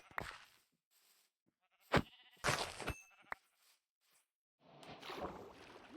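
Sheep in a video game bleat in a few short, faint calls separated by silence, followed by a soft, steady rustling background.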